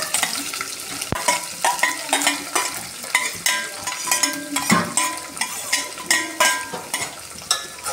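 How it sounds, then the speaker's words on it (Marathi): Sliced onion frying with black pepper, cloves, bay leaf and chana dal for tomato rice, a steady loud sizzle broken by repeated scraping stirs and occasional clinks of a utensil against the pan. "आता त्यामध्ये उभा चिरलेला कांदा टाकायचा"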